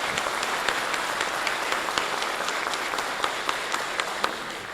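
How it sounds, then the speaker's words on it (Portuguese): A round of applause from an audience at the opening of a racial literacy course for municipal guards at Universidade Zumbi dos Palmares: steady, full clapping from many people, sustained and even throughout. "uma salva de palmas para todos nós"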